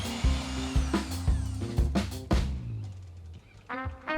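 An electric mixer whirs in short bursts, beating Greek yogurt with condensed milk and vanilla extract, the motor pulsing on and off several times before a brief pause and a final short run.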